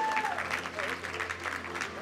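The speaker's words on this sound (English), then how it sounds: "Ladies and gentlemen, a round of applause" Applause from an awards ceremony audience fills the room, a steady wash of clapping with a hum underneath and some voices mixed in.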